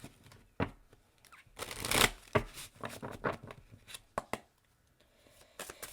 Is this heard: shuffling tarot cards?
yes